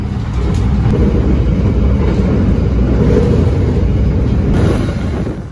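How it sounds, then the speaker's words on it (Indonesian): The Argo Wilis passenger train pulls away from Kroya station, a loud, steady roar of engine and rumbling wheels close by that holds level throughout before easing slightly at the end. "dari stasiun Kroya, kereta api Argo Wilis langsung tancap gas lagi"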